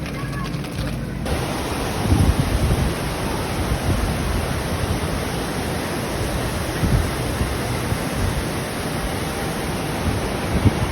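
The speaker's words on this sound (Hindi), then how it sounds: "वैसे हैवी बारिश हो रही है" Loud, continuous roar of heavy rain and gusting wind at the Osaka World Expo 2025, a dense wash of noise with occasional stronger bursts, nearby and unbroken.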